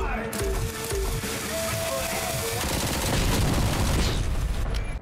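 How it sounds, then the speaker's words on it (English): Grenade launcher fire in the Robocop: Rogue City video game, a dense run of explosive blasts and crackling booms that fills the whole stretch, loud and continuous with game sound effects mixed in. "Explosive. Look at that. Fires grenades."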